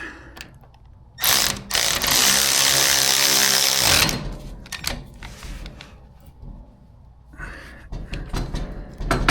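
A wrench tightening a bolt on a 6-inch lift kit for an EZGO golf cart, with a loud three-second burst of rapid ratcheting followed by scattered metallic clicks and clanks close by.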